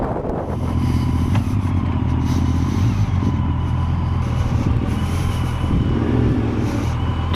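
A noisy motorcycle on a rally ride along a desert road around the mountain drones loudly and steadily throughout, its low engine note holding near and constant with slight swells.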